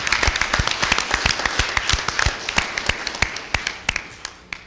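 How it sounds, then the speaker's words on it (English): Audience applause at a school board meeting, dense overlapping claps from a room of people, loud and sustained before thinning toward the end. "go ahead and clap for that"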